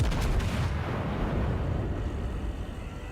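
Heavy naval guns of the battleship USS New York firing in World of Warships, a booming blast at the start that rolls off into a long rumbling decay, loud and close.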